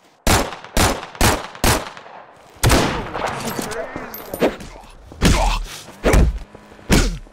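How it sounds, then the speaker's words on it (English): Gunfire in the video game Garry's Mod during a 1940s police roleplay: a string of loud, separate shots in an irregular rhythm, with a busier patch of overlapping noise and voices in the middle. "Hey, stop shooting me!"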